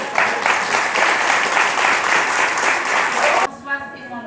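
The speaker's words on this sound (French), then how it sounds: "Et je vous demande tous d'applaudir notre équipe." Crowd applause at an outdoor Independence Day village fête in France, loud steady clapping that cuts off abruptly near the end.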